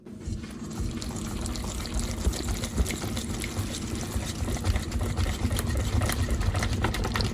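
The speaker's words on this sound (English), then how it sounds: "Now, once we're done mixing all this" A sandwich sauce of shredded onions, horseradish, Worcestershire, mayo and spicy ketchup mixed in a bowl, a continuous close wet churning and scraping with no talk.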